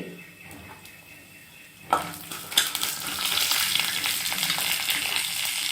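Quiet clattering gives way to a sudden loud, crackling sizzle as mustard seeds hit hot oil for tempering, popping and spitting steadily close by.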